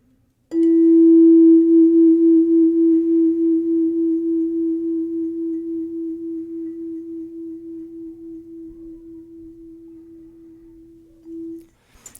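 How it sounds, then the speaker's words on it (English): A single hand chime rings out once, struck clearly and sustaining a pure, steady tone with a pulsing echo waver that slowly fades over about eleven seconds. "You hear that echo, the waver in the tone?"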